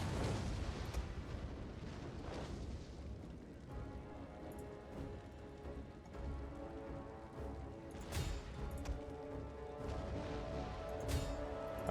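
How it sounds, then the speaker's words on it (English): Artillery fires explosive rounds in Total War: Attila, a faint, distant rumble of booms and crashes spread unevenly over a continuous battle din, with no voices. "I'm going to just fire on these guys right here with explosive rounds."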